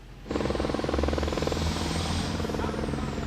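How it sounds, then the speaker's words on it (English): A provincial search helicopter flies over a lake and wooded shoreline in Nova Scotia, its rotor thumping loud and steady from start to finish, starting abruptly and staying close overhead with a faint whine above the low beat. "a provincial helicopter was brought in and is continuing to fly over the lake"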